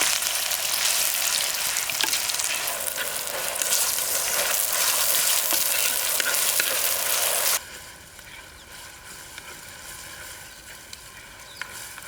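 Onion-garlic-spice paste sizzling and frying loudly in hot oil for a chicken curry, a dense steady crackle that drops abruptly to a softer sizzle partway through, with no talking.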